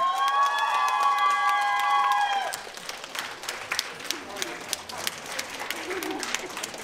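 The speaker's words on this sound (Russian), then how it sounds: "Не смолкающие, не стихающие аплодисменты!" At a belly dance conference performance, an audience claps and cheers for a professional belly dancer; a loud cheering voice rings out over the clapping at first, then scattered, distinct claps continue.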